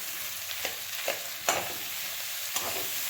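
Mashed potatoes being stirred into masala in a pan for masala dosa, with a soft steady sizzle and four or five scraping spoon strokes spaced irregularly, close and fairly quiet, no talking.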